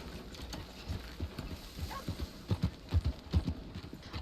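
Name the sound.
horse hooves clip-clopping, RedM (Red Dead) video game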